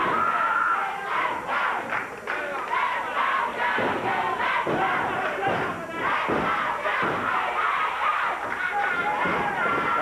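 A wrestling crowd at a CWA Wrestling event in Memphis, 1989, shouting and cheering in steady waves, with thuds from the ring and a commentator's voice underneath.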